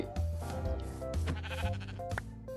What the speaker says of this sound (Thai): เจอแล้วเจอแล้ว แกะขาว